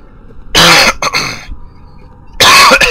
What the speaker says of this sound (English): I needed to cough so badly.